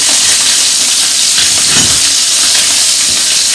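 Vietnamese noodle ingredients hit a hot pan and sizzle loudly, giving a dense, continuous frying hiss close up, with faint scraping under it and no voices.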